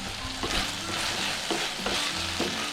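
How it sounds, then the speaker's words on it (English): Okra is stirred as it fries in a pot for a Jamaican cook-up, with a steady sizzle underneath and three short scraping strokes of the spoon spaced about a second apart. "Now guys, I've added my okras. Want to give that a little stir."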